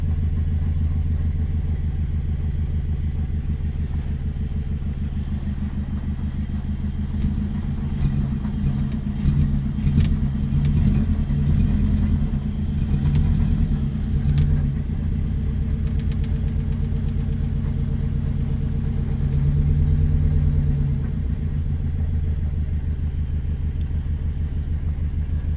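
A Honda Civic series 1 engine idles steadily just after starting, a low, even mechanical rumble with some light clatter and slight surges midway, heard close and alone with no talking.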